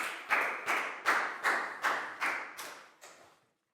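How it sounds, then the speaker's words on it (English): A small classroom group gives a brief round of applause for a pupil during a Year 4 science lesson, about seven sharp bursts of clapping in a quick even rhythm that fade out over a few seconds, close and with no talk. "Big round of applause for Lakgao,"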